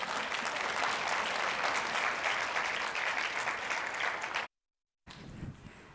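Steady, full applause from a conference audience greeting a speaker onstage, loud and sustained for several seconds before cutting off abruptly, then resuming faintly.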